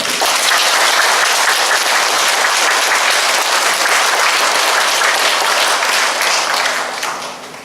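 Congregation at an Advent lecture clapping loudly to welcome a bishop, continuous close applause from many hands that holds steady and fades away in the last second.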